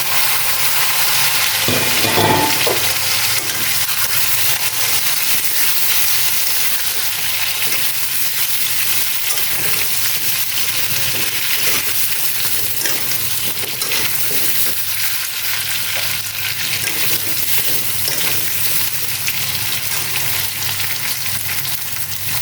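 Washed taro pieces fry in a wok over cumin seeds for a hilsa and taro curry, giving a loud, continuous, close-up sizzle and hiss that holds steady throughout.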